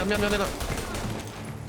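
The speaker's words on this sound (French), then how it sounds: "j'ai pris un coup de pompe en plein dans les oreilles" Video game gunfire, a loud burst of shotgun blasts, fills a short stretch of play with dense rapid shots and a harsh ringing onset, and no speech cuts through it.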